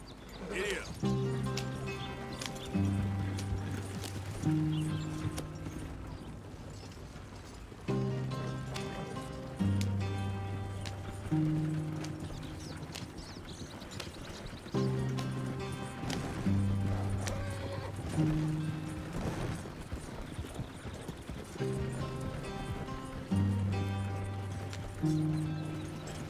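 Horse hooves gallop in Red Dead Redemption 2 with a steady clip-clop rhythm and an occasional whinny, laid over a looping melodic music track that repeats every few seconds.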